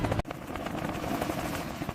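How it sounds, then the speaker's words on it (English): Helicopters set down at a forward operating base, a dense, steady rotor thrum with rapid blade chop filling the whole stretch after a brief sharp break at the start. "The helicopters touched down at the forward operating base just as the first light of dawn streaked high."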